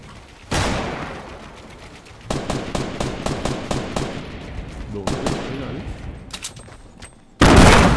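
Gunfire in a Fortnite duo match, with a shotgun among the weapons: loud single blasts open and close the stretch, and rapid rattling bursts of fire fill the middle, all close and punchy.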